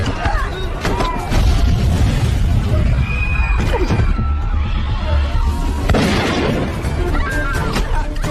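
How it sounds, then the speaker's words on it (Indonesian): A bomb hidden in a suitcase goes off in an action film scene, a loud booming blast with rumbling debris and crashing that carries through, followed by a second burst of noise and cries partway along. "Ledakan pun terjadi"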